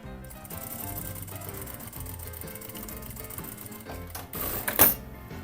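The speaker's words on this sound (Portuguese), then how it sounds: "E eu vou passar uma costurinha do meio até aqui o final." A sewing machine stitches a fabric toothbrush holder, its needle chattering in a steady rapid run, faint and close, with a brief louder burst just before the end.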